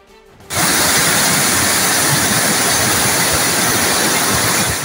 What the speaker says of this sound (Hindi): वादिये नीलम में शदीद बारिश के बाद दरियाओं और नदी नालों में सैलाबी सूरत हाल है।